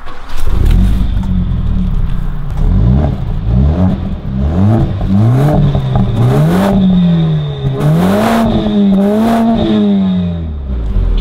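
A Mercedes CLA 45 AMG revs hard with its exhaust valves open, a loud, close, continuous engine roar that climbs and falls through repeated throttle blips and rising pitch sweeps for about eleven seconds.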